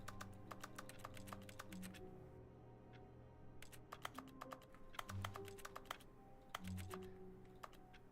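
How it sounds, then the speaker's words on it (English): Sharp keyboard-style clicks produced by mouse clicks in The Stanley Parable, arriving in quick irregular bursts of taps, close and fairly quiet, over a faint steady hum. "me clicking is like a keyboard click sound."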